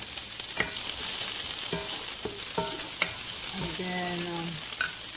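Half a cup of garlic frying in hot vegetable cooking oil gives a steady, close hiss, with a few light clinks of a utensil against the pan and a brief bit of speech.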